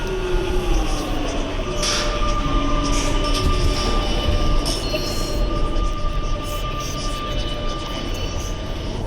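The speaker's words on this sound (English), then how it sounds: "We're running this express train right now." An automatic express subway train runs along the track with a steady loud rumble, faint squealing wheel tones and a droning hum throughout, with no talk over it.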